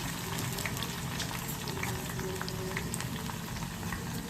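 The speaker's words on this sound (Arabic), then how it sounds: "هنزل بقى بالبصل كده يتحمر معايا كده اهو" Onions fry in hot oil in a pot, giving a continuous dense crackling sizzle with scattered small pops, steady and close, and no voices.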